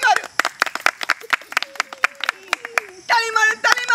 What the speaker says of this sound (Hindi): ताली मारू ताली मारू